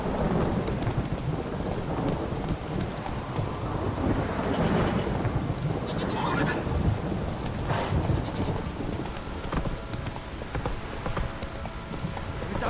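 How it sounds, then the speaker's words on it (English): Steady heavy rain with rumbling thunder in the Witcher 3 video game, a continuous dense wash of rainfall with low rolling rumbles and a few distant cracks, no talking. "Stop raining, my arse will rot off."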